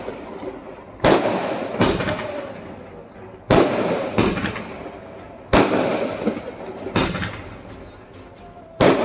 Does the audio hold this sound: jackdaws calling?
no